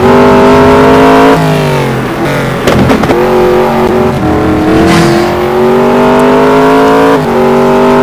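A GT1 race car lapping Suzuka in a racing video game, its engine screaming at speed, loud and close throughout, with the pitch climbing and dropping around gear shifts.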